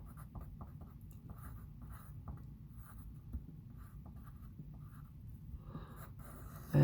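A pencil writes out a math answer on paper, producing faint, close scratching strokes in short bursts over a low, steady background hum, with no talking.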